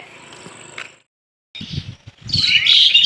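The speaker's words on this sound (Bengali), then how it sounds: "দুটি শালিক পাখি বসে আছে আরেকটি এসে বসলো এই বিদ্যুতের খাম্বায় তারের উপরে" Outdoor ambience in a village near Kolkata with rumbling noise, then bright, loud chirps of myna birds perched on a power line, calling close by toward the end.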